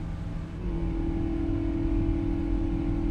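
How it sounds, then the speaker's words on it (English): Boeing 777-200ER jet engines droning in flight in a flight simulator, a steady low hum with a sustained tonal whine that steps up slightly early on, then holds evenly and moderately loud with no talk. "Listen to those engines up here, though. They sound so good."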